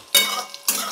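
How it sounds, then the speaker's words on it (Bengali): Panch phoron, a Bengali five-spice mix, hits hot oil in a pan with two sudden bursts of bright crackling sizzle, close and loud, separated by a brief quieter gap. "আর এই যে একটু 5 ফোড়ন দিলাম"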